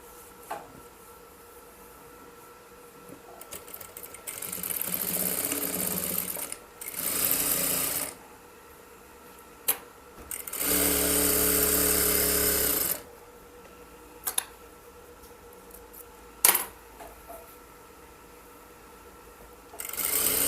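A domestic sewing machine stitches the waistband casing of a salwar in several bursts of varying length, close and clear, with short handling knocks and pauses between runs.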